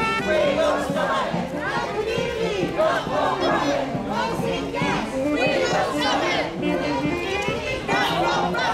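Protest rally against coal seam gas with a large crowd of community groups, a dense, loud mass of many voices shouting and chattering together without pause, close and continuous.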